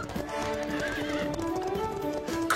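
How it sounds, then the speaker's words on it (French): Cartoon racehorses gallop off with quick, crisp clip-clop hoofbeats and a whinny, bright and fairly close, in a steady running rhythm without speech. "Où sont mes chevaux de course? Ils sont partis par là."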